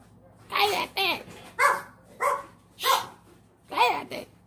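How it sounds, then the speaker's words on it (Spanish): A dog barks again and again indoors, giving about six loud, close barks in uneven bursts, with some yips and whimpers among them. "¡Cállate, perro!"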